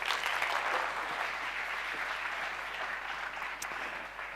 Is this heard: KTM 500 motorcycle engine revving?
no